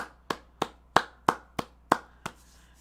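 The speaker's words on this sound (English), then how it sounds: "So let's clap it up for Legend of the Star" Audience clapping, heard as a slow, evenly spaced series of about eight sharp, fairly quiet claps, close and alone, with no talking.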